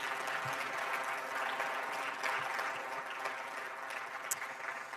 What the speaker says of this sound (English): Let's give all the nominees and winners one final round of applause.